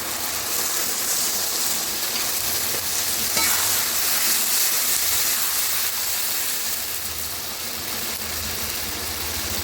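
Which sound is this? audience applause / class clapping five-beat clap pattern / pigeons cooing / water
water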